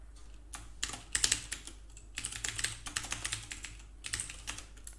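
C++ code is typed on a computer keyboard in quick irregular bursts of close, soft key clatter with brief pauses between, and nobody talking.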